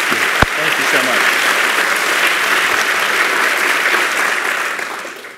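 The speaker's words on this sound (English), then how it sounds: "please have a round of applause for this man" Sustained applause from a sizable lecture audience, loud and even throughout, with one sharp knock near the start, tapering slightly at the end.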